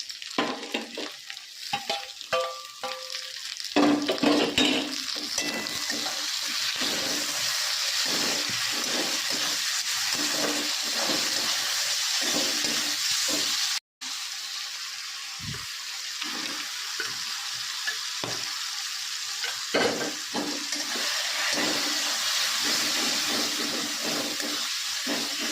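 Chopped tomatoes and slit green chillies fry in hot oil for a bhetki fish head curry, a dense continuous sizzle with stirring scrapes throughout, broken once by a brief pause.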